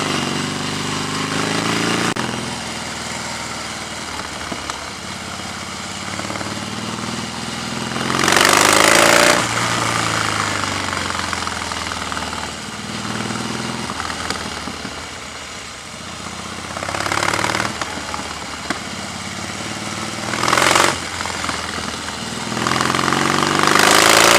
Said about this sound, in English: it's a lot of fun just flipping the throttle on this thing.